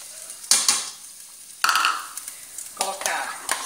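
Two cloves of chopped garlic are dropped into a heaping spoonful of hot oil, giving three sharp bursts of sizzling and stirring spaced about a second apart, each fading into a softer crackle.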